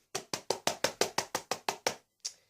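About ten sharp hand claps in a steady, quick rhythm, then a short pause and one last clap; close and fairly quiet, like a small group or a single person.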